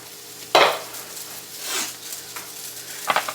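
Fish pieces stirred in a frying pan give a loud scraping, sizzling burst, a softer stir a second later, then a final clatter of utensil against pan, with a steady frying hiss underneath.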